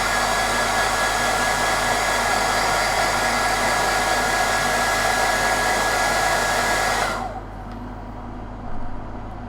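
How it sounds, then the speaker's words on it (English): A hairdryer blows on a painted miniature with a loud, constant roaring whoosh close by, then cuts off abruptly near the end, leaving a quieter background. "hit it with a hairdryer."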